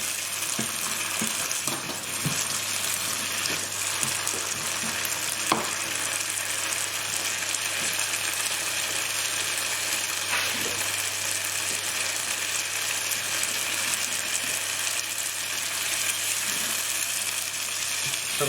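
Tomatoes and onions fry for chicken karahi, sizzling steadily in hot oil while a spoon stirs through them, with occasional scrapes and knocks against the pan over a constant close hiss.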